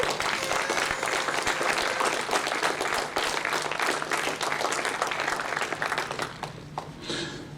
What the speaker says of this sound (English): So let's have a round of applause for that.